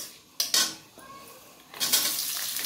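Onions tipped into already hot oil tempered with a dried red chili and whole black peppercorns for a chicken curry; a few utensil clinks come first, then a loud hiss of sizzling bursts up and carries on steadily.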